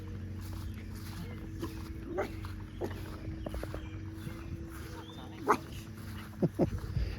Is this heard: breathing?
no